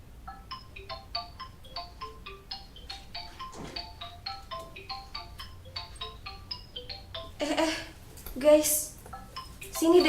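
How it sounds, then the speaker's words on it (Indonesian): A phone's melodic ringtone plays as a rapid series of bright electronic tones in an indoor scene, followed by clattering and bursts of noise near the end. "Telepon Tisaha sih"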